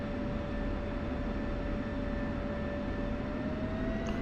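An F-16 jet taxiing in the DCS combat flight simulator gives a continuous engine roar with a thin steady whine riding on top. It holds even and unbroken throughout, with no voices.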